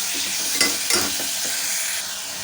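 Tomatoes being stirred and sautéed in sesame oil in a pan, made alongside drumstick leaves, with a steady close sizzle and a couple of sharper scraping stirs.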